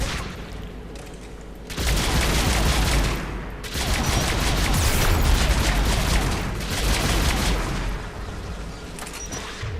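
Heavy gunfire from the video game Mass Effect 3, with dense bursts of shots and explosive booms swelling and easing in loud waves throughout, and no talk.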